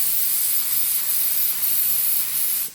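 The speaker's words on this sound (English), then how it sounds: "We're just gonna check our spray pattern." A paint spray gun set to 35 PSI makes a steady, loud, airy hiss for a test pattern on a cardboard box during a 1987 Bronco restoration, then cuts off abruptly at the end.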